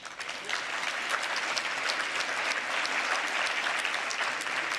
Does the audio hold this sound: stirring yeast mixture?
no